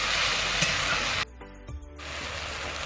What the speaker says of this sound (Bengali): মশলা হালকা করে কষে নিয়েছি